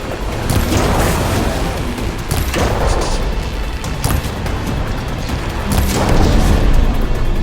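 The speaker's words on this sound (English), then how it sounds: "Exploding itself!" A machine blows itself up in the video game Horizon Forbidden West, giving a loud rolling boom with repeated heavy blasts amid dense, continuous battle noise throughout.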